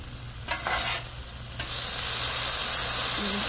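Shrimp and green beans sizzle on a Blackstone griddle in a steady, close hiss that grows louder and fuller, with a few faint scrapes of a utensil near the start.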